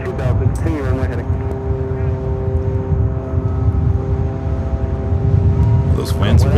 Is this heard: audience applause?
no